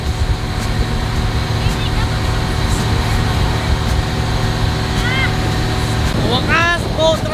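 A boat motor drones steadily and loudly throughout a ride near Mt. Taal, with wind and water noise, and a few voices call out near the end.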